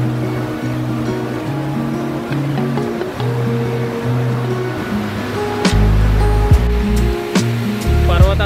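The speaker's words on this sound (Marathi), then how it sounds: "पर्वतातून खाली पाणी येत आहे," A clear mountain stream rushes through the Partnach gorge near Garmisch-Partenkirchen, Germany, as a steady, close wash of water that is partly covered by music throughout.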